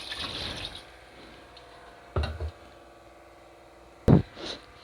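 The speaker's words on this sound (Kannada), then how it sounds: "ಈಗ ನಾನು 2 ಗ್ಲಾಸ್ ನೀರನ್ನು ಈ ಮಿಕ್ಸಿ ಜಾರಿಗೆ ಹಾಕ್ಕೊಂಡಿದ್ದೀನಿ" Water poured into a mixer jar in a home kitchen while making soya biryani, with a splashing pour at the start, then two short separate glugs and splashes, close and fairly loud.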